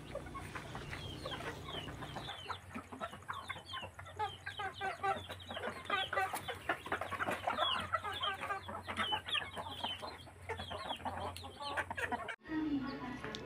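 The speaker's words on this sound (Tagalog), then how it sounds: "yan ang sisiw. Yan, napisa pala dun sa incubator." Newly hatched chicks from an incubator on a farm peep in rapid, high, repeated chirps close up, with a steady low hum underneath and a brief bump near the end.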